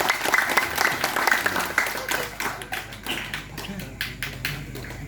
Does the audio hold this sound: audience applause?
yes